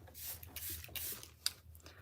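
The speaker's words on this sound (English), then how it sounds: "I'm gonna put a little bit of setting spray on." Makeup setting spray mists onto a face in a couple of soft, breathy hissing bursts, close by and brief, with a small click from the nozzle.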